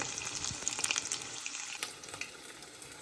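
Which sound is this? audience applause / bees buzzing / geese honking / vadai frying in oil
vadai frying in oil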